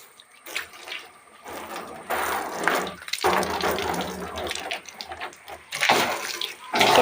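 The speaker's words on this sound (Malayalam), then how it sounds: "നമ്മൾ അകത്തോട്ട് നമ്മൾ കുറച്ച് വെള്ളം ഒന്ന് ഒഴിക്കുക." Water gushes steadily into a hollow plastic barrel close by, a continuous splashing rush that swells and dips without pause.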